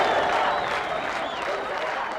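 A crowd of several thousand people in 1999 wartime Prizren, Kosovo, confronting Yugoslav soldiers, makes a dense, continuous roar of many voices with scattered clapping and shouts, loud and unbroken.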